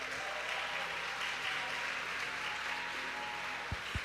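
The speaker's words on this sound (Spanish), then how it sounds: "Un aplauso." A church congress audience applauds with a steady, even wash of clapping that sounds distant and fairly quiet.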